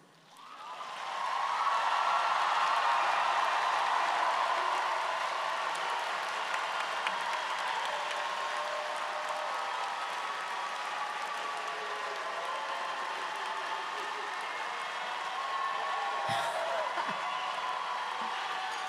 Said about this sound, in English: But I now ask family members and friends to applaud your graduates.